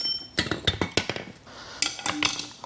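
Metal assembly of a Walker mower's jack shaft being removed during right-side hydro replacement: a close run of sharp clanks, knocks and clinks in quick bursts, pausing briefly midway before another cluster of rattling metal hits.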